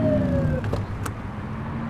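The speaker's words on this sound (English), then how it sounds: "Get on their tail and flip the siren." A police car siren in The Precinct video game gives a short falling wail at the start, then fades into a steady engine hum with a couple of faint clicks.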